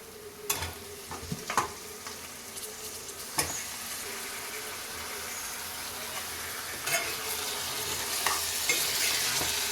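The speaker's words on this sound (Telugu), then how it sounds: "ఇప్పుడు మనము ఈ చికెన్ అయితే అందులో వేసేసుకుందాం" Chicken frying with ginger-garlic paste in a pan, a constant sizzle punctuated by irregular scraping stirs and utensil knocks, growing slightly fuller toward the end, with no speech.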